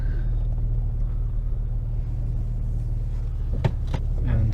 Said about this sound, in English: now we're gonna take it for a little test drive